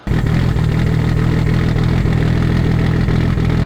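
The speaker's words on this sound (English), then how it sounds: "Did the exhaust, yeah, we told him about the exhaust to Tomo. Yep. Sounds much better" A Nissan GT-R fitted with a new exhaust idles close by in a steady, unbroken low rumble that runs the whole time, with no talking.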